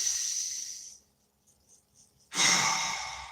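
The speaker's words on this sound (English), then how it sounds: "Let's take a nice deep breath." Someone breathes deeply up close, first with a long airy exhale, then a short quiet pause, then a strong hissing breath.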